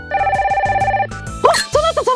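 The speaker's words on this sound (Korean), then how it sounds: "전화 왔다, 전화!" A telephone bell rings in a children's story about a detective office, a repeating trill for about a second, followed by excited voices speaking loudly.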